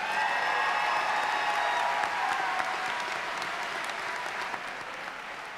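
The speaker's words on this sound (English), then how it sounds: "Let's give another round of applause for our graduates." Graduates at a Class of 2024 high school graduation ceremony receive a steady round of audience applause with many hands clapping at once, gradually tapering off toward the end.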